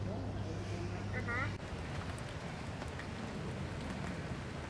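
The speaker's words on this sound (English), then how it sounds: "Rain, rain, and more rain." Steady rain falls over a Da Nang backstreet as a constant broadband hiss, with faint background voices and a brief tonal chirp near the start.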